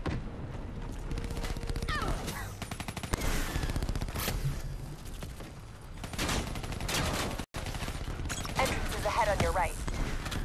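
Gunfire from Call of Duty: Black Ops 3 rattling in bursts through a chaotic battle, mixed with explosions and game effects, with a player talking over the action throughout.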